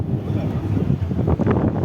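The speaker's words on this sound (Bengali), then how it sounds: "এটা প্রচুর রকমের বাতাস হচ্ছে।" Strong wind buffets the microphone outdoors, a loud, constant rumble and roar with gusting bursts and no clear talking.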